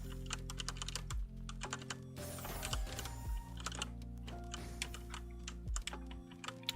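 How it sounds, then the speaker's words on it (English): Rapid computer keyboard typing during a fast TETR.IO puzzle game, a dense run of close clicks and clacks with occasional heavier key thumps, steady and unbroken with no voices. "my keyboard makes a frantic sound"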